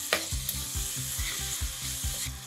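Malabar spinach curry sizzling and frying in a pan as the greens are stirred in, a steady close hiss with a rhythmic series of stirring scrapes, no voices.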